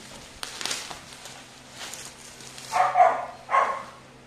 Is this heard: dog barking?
yes